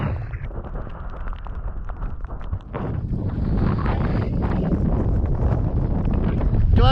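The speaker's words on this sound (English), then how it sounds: "lots of struggling through the wind" Strong wind buffets the microphone on a Scottish mountainside in winter, a loud, continuous roar that swells slightly louder over the last few seconds.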